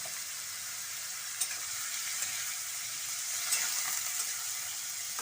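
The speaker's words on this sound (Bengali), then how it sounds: "গাজর আর বিনসটা ভেজে নেওয়া হবে" Carrots and beans frying in a pan for fried rice give a steady, close sizzle with a few faint clinks, no voices over it.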